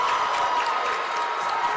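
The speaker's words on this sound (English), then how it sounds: "you hear the sarcastic cheer from the Logan side after that" Sarcastic cheering and applause rise from the Logan Wildcats crowd at a high school basketball game after a missed foul shot, a steady wash of crowd noise with no single voice standing out.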